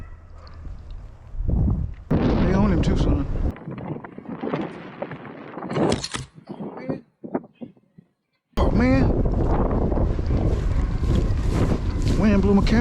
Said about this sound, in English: Wind blew my camera down.